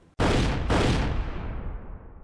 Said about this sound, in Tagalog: umalingaw-ngaw ang 2 putok ng baril